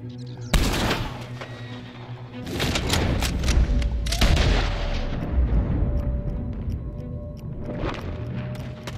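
Rifle gunfire in Red Dead Redemption 2: a sharp loud shot followed by booming reports and rolling echoes, several blasts over a few seconds with a sustained rumbling tail.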